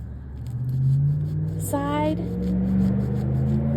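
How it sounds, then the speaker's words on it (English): A loud truck on a rural Indiana road rumbles past with a steady low engine drone that swells and fades, while someone speaks briefly over it outdoors. "There goes a loud truck"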